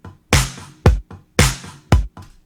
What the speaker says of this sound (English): The snare and the kick together sound like this.